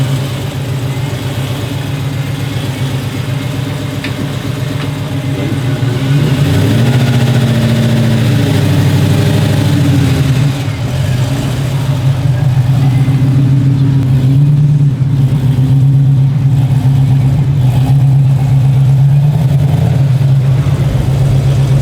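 An old-school car on its first test drive: the engine idles close by, then revs and pulls away with a deep throaty drone that rises and falls before settling into a steady cruise, with no talking.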